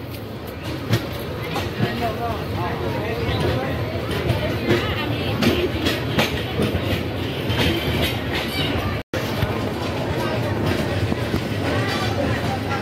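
Tista Express passenger train running on rails just after leaving Islampur Bazar station, heard from inside as a loud, steady rumble and rattle with a brief dropout near the end, faint passenger voices murmuring underneath.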